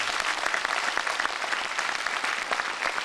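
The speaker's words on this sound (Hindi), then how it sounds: "जोरदार तालियों से स्वागत करेंगे" Audience at a seminar in Chandigarh breaks into loud, sustained applause to welcome a speaker, a dense continuous clatter of many hands without pause.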